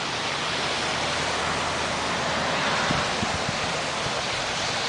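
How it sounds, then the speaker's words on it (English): Brisk northwest wind along a lakefront during a bike ride, a steady loud broadband rush buffeting the microphone for the whole stretch, with a few low thumps near the end and no talking. "I just saw a sign with a brisk northwest wind, and I'll be along the lakefront for about the next 30 to 35 miles"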